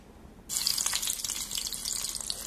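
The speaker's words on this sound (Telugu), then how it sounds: "ఇప్పుడు మనం పోపు పెట్టేసుకుందాం." Crushed garlic dropped into hot oil for a tempering bursts into a loud, dense sizzle after a quiet moment, then keeps hissing and crackling steadily up close without any voices.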